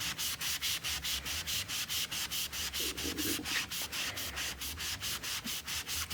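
Cleaner being rubbed by hand across a 1976 Bally Flip Flop pinball playfield makes a rhythmic, close back-and-forth scrubbing, about three strokes per second, steady and moderately loud with no voices.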